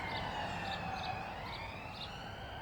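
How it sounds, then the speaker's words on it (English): Emergency vehicle sirens wail steadily in the background with a repeating rising tone, faint and distant throughout. "Excuse the sirens in the background."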